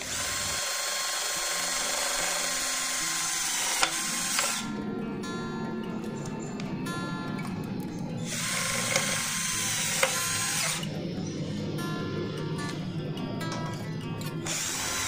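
A Total TDLI12325 12 V cordless drill drives self-drilling screws into light steel, whirring in two long, loud runs separated by brief pauses with ratcheting clicks.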